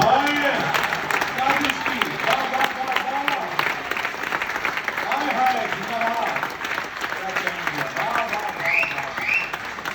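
An audience at a live spoken-word show in Mumbai breaks into sustained applause, with steady clapping heard under and around someone speaking over the crowd.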